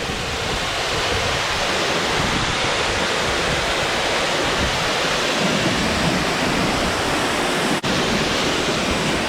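A waterfall on the Turkey Path Trail in the Pennsylvania Grand Canyon, heard from close enough to catch the spray: a loud, unbroken roar of rushing, splashing water with some wind buffeting the microphone.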